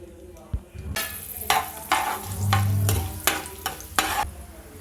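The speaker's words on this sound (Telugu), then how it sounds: "ఇందులో పోపులు అయితే వేసుకోవాలి" Tempering spices dropped into hot oil in a pan crackle and sputter in sharp, repeated bursts over a steady close sizzle.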